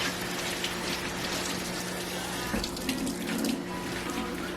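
Tap water runs steadily into a sink while food is rinsed in a strainer, a continuous close hiss and splash with a faint hum underneath.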